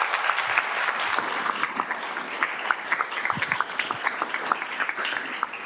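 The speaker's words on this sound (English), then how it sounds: "Let's give her a round of applause again." Audience clapping at a school governing board meeting, a steady burst of applause from a roomful of people, moderately loud and continuous throughout with dense, overlapping claps.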